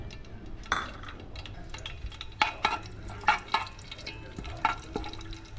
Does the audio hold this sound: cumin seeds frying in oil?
yes